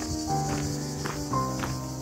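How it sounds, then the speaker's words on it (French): Cicadas sing in the heat along the Way of St. James near Cajarc in France, a steady buzzing drone with pulsing swells, moderately loud and without talk. "Je sais pas si les cigales elles font des grasses matinées ou si elles se mettent à chanter quand il fait chaud."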